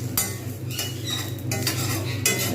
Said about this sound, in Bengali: এরকম কন্টিনিউ কিন্তু নাড়িয়ে যেতে হবে